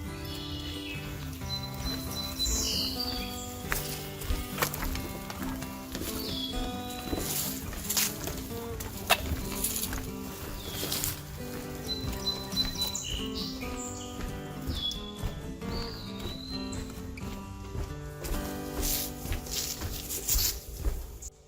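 Birds chirp and call repeatedly over a dense, busy background of outdoor sounds including frogs, with short tweets recurring throughout.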